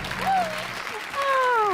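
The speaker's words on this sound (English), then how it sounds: "Round of applause for Carol." Studio audience applause for a contestant named Carol on a BBC National Lottery quiz show, steady clapping filling the short stretch with rising whoops or cheers layered on top, fairly close and lively.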